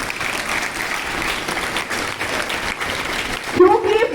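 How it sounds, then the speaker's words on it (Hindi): Schoolchildren at Kendriya Vidyalaya Army Area applaud loudly at a primary teacher's retirement function, a steady dense wash of clapping throughout before a voice starts speaking near the end. "बच्चों इस स्कूल के एक जोरदार ताली बजाइए"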